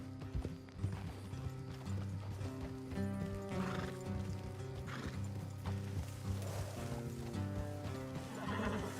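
Horses in the game Red Dead Redemption 2 clip-clop along at a steady gallop with whinnying neighs, layered over a droning musical score, moderately loud and continuous.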